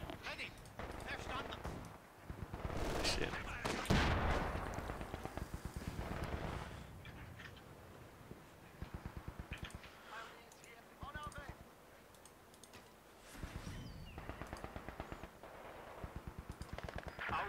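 Gunfire rattles through a Wikinger war game battle, bursts of rapid shots and single cracks coming and going at moderate distance, mixed with clicks and other battlefield noise under faint voices.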